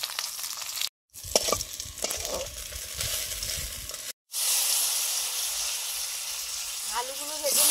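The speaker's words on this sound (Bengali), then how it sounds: "আলুগুলো ভেজে নিচ্ছি, মাছের রান্নার আলুগুলো।" Potatoes frying in hot oil for a Bengali parshe fish curry, a broad steady sizzling hiss that runs on after a brief cut, with clinks and stirring early on and faint talk in the background.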